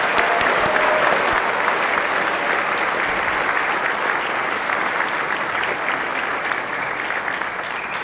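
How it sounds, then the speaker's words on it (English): Steady applause from senators and gallery visitors in a state Senate chamber honoring school students and graduates, a full even wash of clapping that stays loud throughout. "Let's all give them a round of applause"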